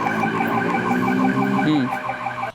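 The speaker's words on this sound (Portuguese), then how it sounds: "o barulho da sirene permanece" A Military Police car siren wailing in a steady repeating pattern, loud and fairly close, with a brief rising sweep near the end.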